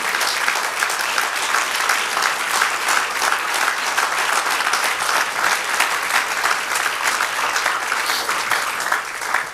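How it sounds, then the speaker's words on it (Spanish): A church congregation applauding loudly and continuously during an evening service, dense, sustained clapping from many hands filling the space without pause. "Y si usted va a dar ese aplauso,"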